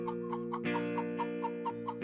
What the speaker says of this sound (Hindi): अरे ये तो एक मुर्गी है।